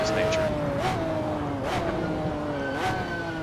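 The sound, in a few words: McLaren F1 GTR engine in video game Assetto Corsa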